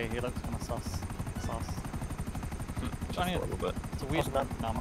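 An armed helicopter flies in GTA 5, its rotor chopping steadily as a rapid rhythmic thump under continuous conversation, with occasional sharper game sounds.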